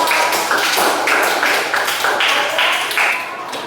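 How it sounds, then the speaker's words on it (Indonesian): A classroom full of students claps together for all the presenting groups, dense and loud, the applause rising in rhythmic waves before tapering off near the end. "Beri aplaus, tepuk tangan untuk semua."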